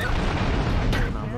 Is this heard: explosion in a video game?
yes